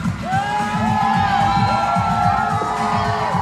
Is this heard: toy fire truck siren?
no